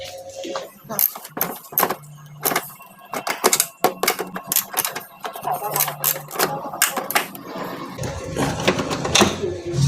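A ratchet with a short extension turns a 14 mm bolt while a spindle assembly is worked on on a Mitsubishi Mirage, giving bursts of quick metallic clicking up close. The clicks come in irregular runs separated by pauses and small knocks.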